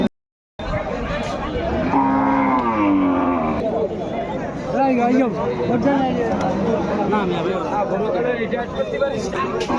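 Cattle low and moo amid a busy crowd at an Eid al-Adha cattle market, with people chattering and haggling loudly throughout.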